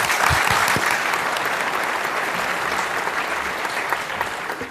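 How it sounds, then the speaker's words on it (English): Warm audience applause at an environmental gathering on alternative living and vegan diets, a steady dense clatter of many hands lasting about five seconds at even loudness. "Let's thank them once again with our warmest applause."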